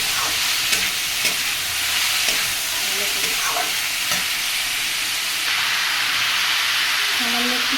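Fish head curry with green chillies sizzling loudly in a pan, a constant dense hiss broken by the scrape and knock of a spoon stirring, close and continuous.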